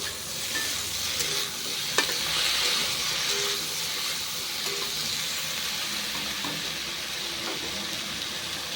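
Chopped tomatoes hit hot oil in a pan of frying fish curry and set off a loud, continuous hiss and sizzle that holds steady, with a single sharp clink near the start.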